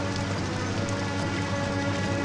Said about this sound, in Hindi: इतना बारिश आ रहा है